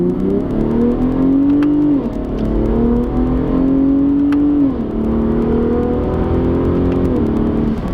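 A 2021 Ford Raptor pickup truck engine revs steadily in sport mode, its pitch climbing and dropping back a few times in a loud, continuous roar close by.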